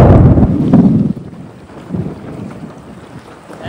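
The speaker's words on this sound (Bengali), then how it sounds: "ভাই ঝড়ের মতো হাওয়া ছাড়িছে" Strong storm wind from a Kalbaishakhi squall buffets a boat on the Bidya river, a loud rushing roar at first that drops after about a second into a lower, gusty rumble of wind and water.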